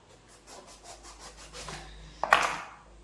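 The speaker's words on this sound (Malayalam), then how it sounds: "ഇതേ വലിപ്പത്തിൽ ഇതേ രീതിയിൽ കട്ട് ചെയ്തെടുക്കണം." A knife slices through eggplant (brinjal) in a home kitchen with soft rhythmic cutting strokes, ending in a sharper knock against the board, quiet and close.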